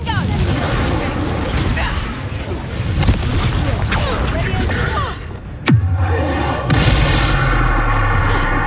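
A Confringo blasting spell explodes in Hogwarts Legacy, a loud sharp boom amid a dense, busy game soundscape of rumbling effects and talk, with a sudden crack near the middle followed by a lingering low tail.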